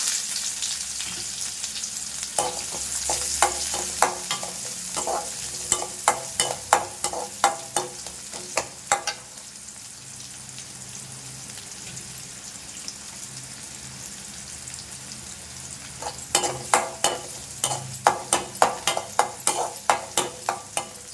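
Crackling sizzle of food frying in hot oil, with bursts of sharp stirring clatter early on and again near the end, steady background hiss between.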